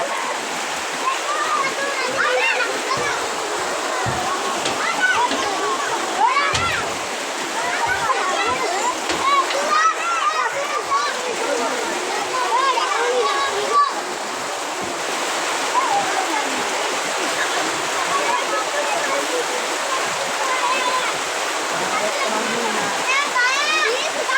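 Heavy monsoon rain pours and splashes in a dense, continuous roar, with children and other voices talking through it.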